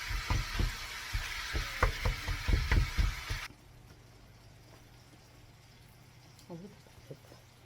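Seasoned meat sizzling loudly in a hot pan with rhythmic stirring clatter for a few seconds, then cutting off abruptly to a quiet room with faint voices.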